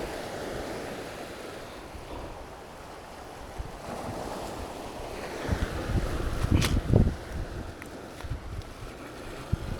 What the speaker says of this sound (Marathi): त्या लाटा आता जोरात येत आहे